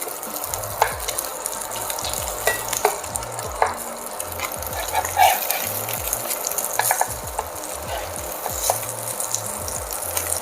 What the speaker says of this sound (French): on va venir retourner nos filets de dorade